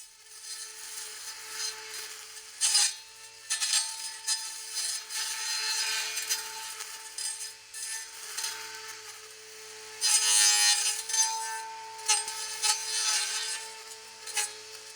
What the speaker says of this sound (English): In the test, I started by cutting poplar young shoots with diameters up to 13 millimeters